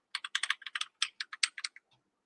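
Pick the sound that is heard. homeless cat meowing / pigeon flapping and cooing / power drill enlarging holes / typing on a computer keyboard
typing on a computer keyboard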